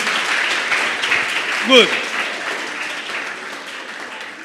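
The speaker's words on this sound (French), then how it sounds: "Applaudissez encore pour moi s'il vous plaît" An audience at a youth talk applauds in a sustained, even wash of clapping, with a short spoken word and a brief voiced squeal partway through.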